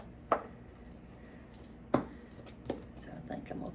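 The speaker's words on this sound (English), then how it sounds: "So I think I'm going to cut a little bit more." A knife chops through ham on a cutting board for a ham and cheese casserole, with two sharp, distinct chops, then a lighter knock and several soft cuts close by.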